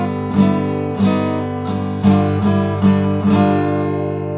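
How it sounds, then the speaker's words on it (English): A short melodic guitar outro lick with sustained, ringing tones and several plucked accents at a steady pace, loud and close. "plays a little outro lick, and it sounds like this"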